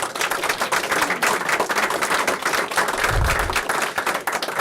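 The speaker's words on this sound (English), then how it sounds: "Can I get a round of applause?" A room at a health care reform press conference breaks into a sustained round of applause, dense steady clapping from many hands with no talking over it.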